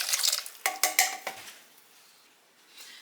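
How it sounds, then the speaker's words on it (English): A pot of corn soup with oregano, salt and pepper is stirred, and a spoon knocks the metal sides in a quick run of about five clinks before the sound fades to a quiet simmer. "I'm just going to give this a good stir."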